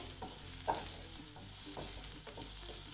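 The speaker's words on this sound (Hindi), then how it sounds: "यहाँ पे हम प्याज को कलर चेंज होने तक फ्राई करके लेंगे" Chopped onions frying in oil in a pan, a close, even sizzle broken by soft stirring scrapes and one small clink.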